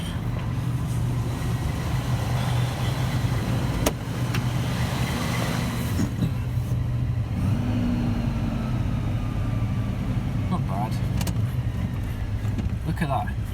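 A Rover SD1's engine idles steadily with a low, continuous hum, the car under repair for alternator trouble and a pressurised hose leak, while a person talks nearby.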